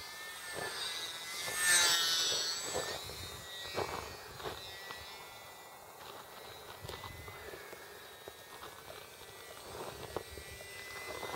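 A Durafly Telemicro RC model airplane on its maiden flight, a faint high-pitched electric motor whine drifting near and far over outdoor background noise, louder for a moment early on.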